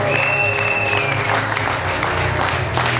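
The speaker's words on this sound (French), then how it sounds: "Est-ce qu'on peut acclamer?" Applause at a religious wedding, with a crowd clapping steadily and loudly throughout, a dense continuous patter and a faint voice rising briefly at the start.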